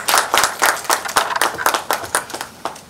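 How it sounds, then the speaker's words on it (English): Audience applause at a women's leadership forum conference, distinct hand claps from a modest crowd, fairly close and loud, with irregular bursts across the three seconds and no talking over it. "Can we give her a big round of applause?"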